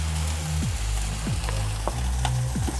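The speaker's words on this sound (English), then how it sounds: "Hear that sizzle?" An entire rack of pork sizzles and crackles over a fire, a steady hiss with sharp pops and spits breaking through every half second or so, close and fairly loud.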